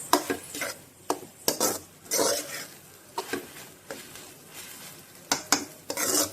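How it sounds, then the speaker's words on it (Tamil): A spoon stirs spinach into cooked lentils in a pot with repeated scraping knocks at an uneven rhythm, while a soft sizzle continues underneath. "இப்போ இந்த கீரையை நல்லா மிக்ஸ் பண்ணிக்கலாம் பருப்பு கூட"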